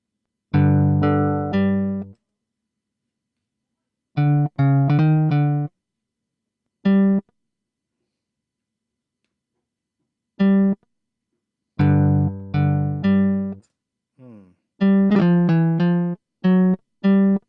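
Arpeggiated MIDI chord with an added G octave plays in Ableton Live, synth notes rippling upward in several separate bursts with silent gaps between them, bright and close.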